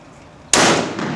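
A single sharp, loud gunshot at an outdoor shooting range, cracking suddenly after near silence and followed by a brief ringing decay.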